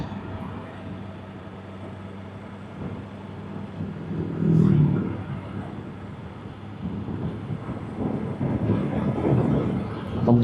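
A 2025 BMW M 1000 XR motorcycle is ridden easily, its engine a steady humming drone under rushing wind that swells louder twice as the bike rolls on.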